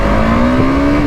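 A new RR310 motorcycle rides past on a street in Pokhara. Its engine gives a loud, close, steady drone whose pitch rises slightly across the short pass, with no speech.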